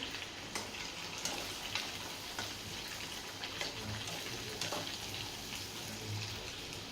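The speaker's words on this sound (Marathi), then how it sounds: "बघा शाबू कसा तळला जातोय" Sabudana vadas deep-frying in hot oil give a steady, fairly faint sizzle and bubbling hiss, with scattered small pops throughout and no voices.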